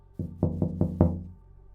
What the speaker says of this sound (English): Then someone knocked on my passenger window.